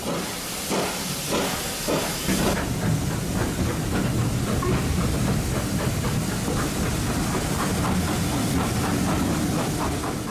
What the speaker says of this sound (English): This train is the final run of engine 43106